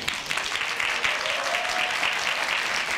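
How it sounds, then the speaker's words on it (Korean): An audience at a youth tech startup olympiad pitch event gives a sustained burst of applause, a dense, even wash of many hands clapping that holds steady for a few seconds. "큰 박수를 부탁드립니다"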